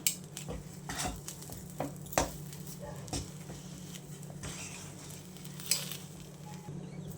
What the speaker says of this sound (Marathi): ही सर्व पूड आपण यामध्ये मिक्स करून घेऊया